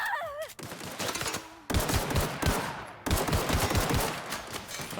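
Assault rifle fire in The Outer Worlds, dense overlapping rapid shots in three loud, close sections, each starting abruptly and carrying on almost without a break.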